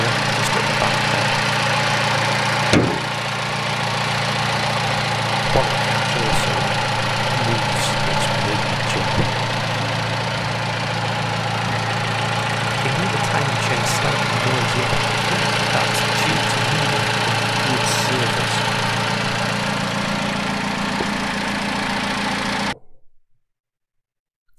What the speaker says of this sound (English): It does have a slight exhaust noise here, just at the back there